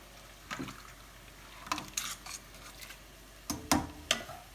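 Black bean soup seasoned with cumin and salt is stirred in a pot, with a few soft wet scrapes and sloshes coming in separate bursts, quiet and close, with no voices.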